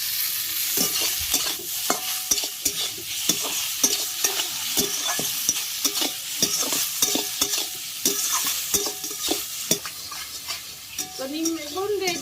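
Cut eggplant is tossed into hot oil with fried neem leaves and stirred, giving a steady sizzle broken by rhythmic scrapes and clacks of a spatula against the pan, fairly close, with a brief voice near the end.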